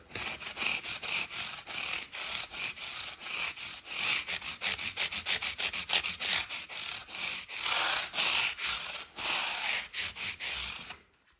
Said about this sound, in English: I prefer the sponge over sanding paper because it conforms to the edge a bit better than sandpaper would.